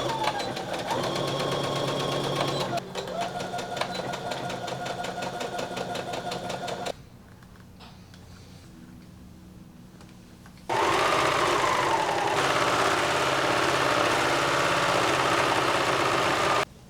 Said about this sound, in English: line up the shoulder seams and sew with a 1/2 inch seam allowance